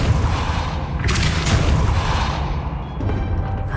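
A Depulso spell cast in Hogwarts Legacy lands as a loud, booming blast with a burst of rumbling noise, followed by a lingering, fading rumble.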